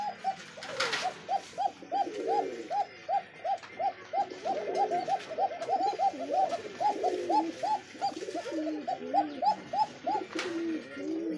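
Bombay king racer pigeons coo in a loft, a close, steady string of repeated throaty coos with overlapping calls from a pair of birds, and no speech over them.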